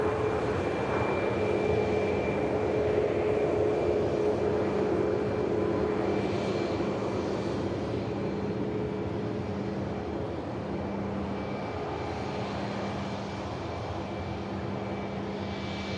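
Air Canada Boeing Dreamliner heading out on departure, a faint, distant steady jet rumble with a thin tonal whine running through it, no voices over it.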